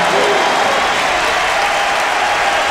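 A basketball arena crowd at a DePaul home game against Kansas roars with sustained cheering and applause after a shot, a dense, loud wash of clapping and voices filling the whole stretch.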